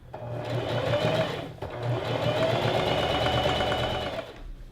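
A sewing machine stitches two fabric panels of a box-pleated maxi skirt together, a close, steady whirring hum with a rapid needle rhythm, briefly pausing mid-run before continuing, no talk.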